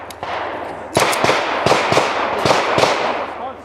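Rapid 9mm pistol shots at an outdoor action pistol range: about seven sharp, loud reports in an uneven quick sequence, each followed by a brief echo, with no talking.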